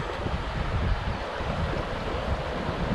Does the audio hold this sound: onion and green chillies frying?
no